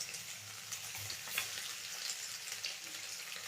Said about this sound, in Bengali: সেদিনের মতোই কিন্তু এটা শ্যালো ফ্রাই হবে, খুব বেশি এটা ভাজা হবে না।